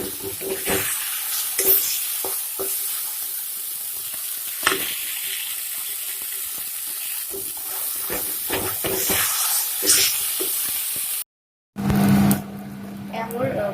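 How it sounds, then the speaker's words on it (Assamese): Eggplant and fish frying in a pan, a steady broadband sizzle and hiss with occasional stirring scrapes, close and fairly loud, briefly cut out near the end. "অলপ 2 মিনিট সময় ভাজিলে হ'ব।"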